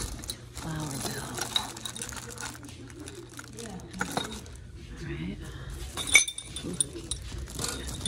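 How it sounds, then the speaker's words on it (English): Small decorative metal bells, including a bird bell and a flower bell, clink and jingle faintly in scattered bursts at a thrift store, with a brighter chime near the middle, while a person talks over them. "See what bells we got in here."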